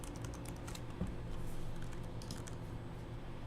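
Computer keyboard typing as a CSS rule is written, a quick, close run of light clicking keystrokes with a slightly heavier tap near the start, steady and fairly quiet with no talking.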